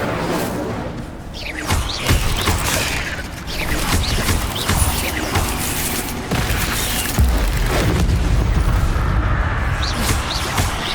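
The Incendio fire spell is cast in the video game Hogwarts Legacy, with loud bursts of flame, whooshes and booming impacts over busy mechanical combat noise that runs throughout.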